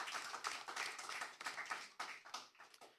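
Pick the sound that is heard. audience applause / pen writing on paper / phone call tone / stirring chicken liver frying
audience applause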